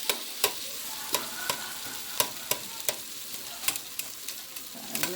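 Onions frying in grease in a pot while being lightly stirred, with a steady sizzle underneath and sharp utensil scrapes and clacks against the pot at irregular intervals, close and clear with no talking.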